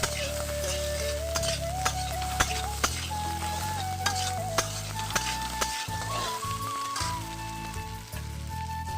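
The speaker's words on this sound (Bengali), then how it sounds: "এখন আমি লাল লাল করে ভেজে নেব।" Boiled jackfruit seeds frying in a pan, a loud continuous sizzle with crackling pops and stirring, running steadily close-up with a faint tone weaving through.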